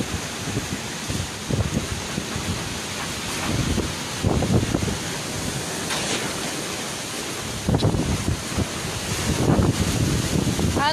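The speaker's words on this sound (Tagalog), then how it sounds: "Sobrang lakas na po ng dagat." Strong sea waves crash and wind buffets the microphone during a typhoon on the Catanduanes coast, with repeated surging roars of surf over a constant windy rush.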